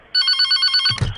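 A telephone bell rings loud and close in a rapid pulsing trill for about a second, then stops abruptly.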